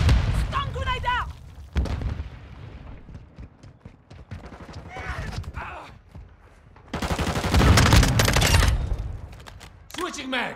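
Call of Duty: Modern Warfare II match on the Crown Raceway map, with a stun grenade and bursts of gunfire and booms, loud and close, broken by quieter gaps and in-game voice callouts.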